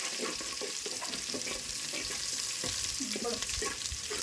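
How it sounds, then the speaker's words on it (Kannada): Garlic frying in a pan until golden during home cooking, a dense continuous crackling sizzle with repeated scraping and stirring strokes throughout, close and fairly loud, no talking. "ಬೆಳ್ಳುಳ್ಳಿ ಒಂದು ಸ್ವಲ್ಪ ಒಳ್ಳೆ ಕಲರ್ ಬರೋ ತನಕ ಫ್ರೈ"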